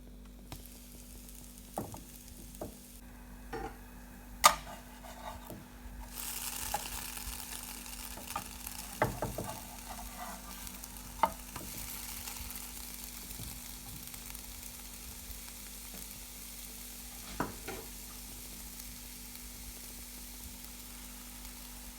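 Milk pancakes fry quietly in a pan, a soft steady sizzle with scattered small pops and occasional clicks, close and fairly faint, with no voices.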